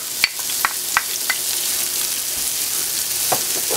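A large shallot goes into a hot pan beside resting pork chops and sizzles steadily, with several sharp taps and scrapes from a utensil near the start and again near the end.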